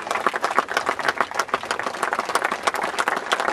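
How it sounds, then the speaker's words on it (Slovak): Applause from an audience at an outdoor military history club battle reenactment in Nitra: a dense, steady wash of many hands clapping at once, fairly loud and unbroken. "poprosím vás ešte raz o potlesk pre členov klubu vojenskej histórie"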